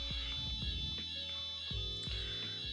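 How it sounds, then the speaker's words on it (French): A building fire alarm sounds with a shrill, steady electronic tone and repeated sharp pulses, indoors at moderate level, with no talking. "3, 4e alarme."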